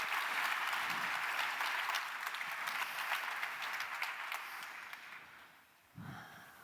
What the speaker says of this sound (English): Round of applause if you went yesterday